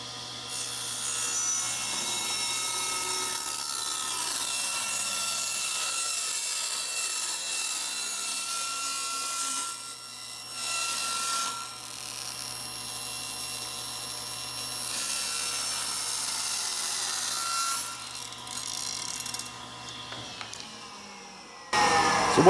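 A table saw cuts a long strip of hardwood with the blade set 3/16 inch from the fence and 1 inch deep, a loud sustained whine and rasp with a brief dip partway through before it winds down.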